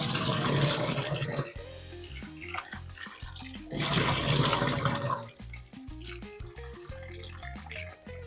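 Chopped raw mango pieces are rinsed under running water in two rushing bursts, with wet clatter and handling of the fruit in the pauses between, close and fairly loud.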